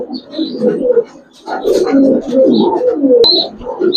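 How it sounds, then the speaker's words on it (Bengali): Silver Giribaz pigeons cooing up close in low, throaty rolling murmurs, nearly continuous over several seconds, with faint higher chirps from other birds in the background. "একটা মাদি কবুতর"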